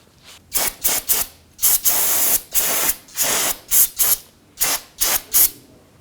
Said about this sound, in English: And give this a spray with some spray solvent to clean it up.